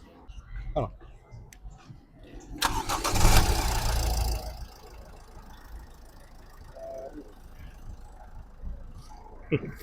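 A car engine cranks and catches with a loud burst, then settles into a steady low idle with a few faint clicks and thumps nearby.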